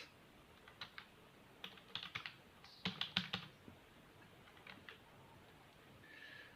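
Code being typed on a computer keyboard in a JavaScript lesson: quiet, close clicking keystrokes in short irregular bursts with pauses, one denser flurry in the middle, and no talking.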